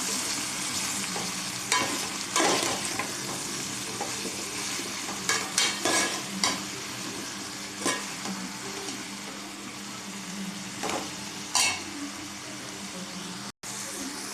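Okra pieces stirred in a pan for bendakaya pulusu, with steady frying sizzle and repeated scraping strokes of a spoon against the pan, close and fairly loud, no talking.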